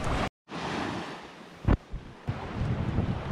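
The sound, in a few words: ocean waves breaking on a beach in Spain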